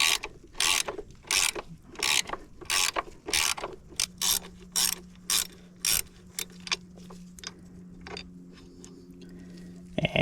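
A ratchet wrench clicks in bursts of rapid ratcheting while backing out the factory kickstand bolts on a Honda CRF300L, close and clear, with pauses between strokes and a low steady hum beneath the later strokes.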